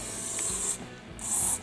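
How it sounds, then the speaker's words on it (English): Two short hissing sprays of carburetor cleaner on a push mower's plastic Briggs carburetor, each lasting about half a second, close by with a brief pause between them. "And you can take some carb spray"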